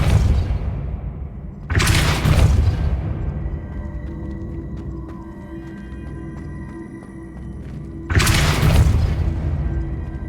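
Depulso spell cast in Hogwarts Legacy on PS5: two loud, forceful whooshing booms, one near the start and one near the end, with a low ambient hum between them.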